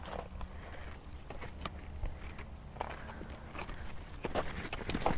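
Footsteps walking by a pond, irregular crunching steps on rough ground, close and moderately loud over faint outdoor background.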